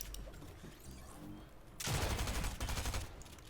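Rapid bursts of gunfire from a Fortnite match at a competitive FNCS tournament, dense and loud in the second half after a quieter stretch of game ambience, no talk.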